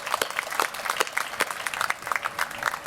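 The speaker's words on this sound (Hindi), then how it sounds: "इसके लिए ताली बजाओ" A crowd gathered in Kakinada, Andhra Pradesh, for an address on Patanjali Ruchi Soya's plans breaks into dense, brisk applause, many hands clapping close together in a steady patter with no talk.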